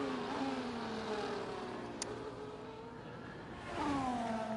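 A Formula 1 car engine in an F1 sim race at the Dutch GP, a high whining rev that rises and falls through gear changes, moderately distant and steady, with no talking.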